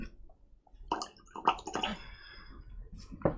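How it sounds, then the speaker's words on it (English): A lot of water poured into a glass of whisky, a few short splashing and dripping bursts up close with quiet gaps between. "I'm going to pour in a lot of water."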